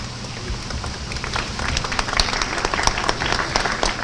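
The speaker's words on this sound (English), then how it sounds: "I think that it's worth a very strong applause" An audience at a conference opening the EBRD's first permanent office applauds. The clapping is dense and steady and builds slightly, with no voice over it.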